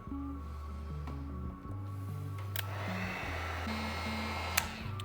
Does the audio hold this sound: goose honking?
no